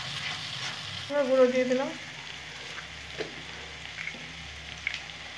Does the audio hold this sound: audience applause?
no